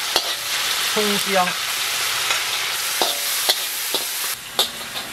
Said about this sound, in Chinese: 锅里留一点底油啊，大酱，这个酱香味给它炸出来。